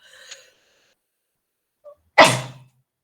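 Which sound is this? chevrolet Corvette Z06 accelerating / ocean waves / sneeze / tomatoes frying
sneeze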